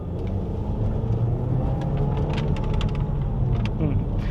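Skoda Karoq 2026 SUV engine pulling under full acceleration, a steady broad rumble with road noise from inside the cabin, continuous and fairly loud with no talk over it.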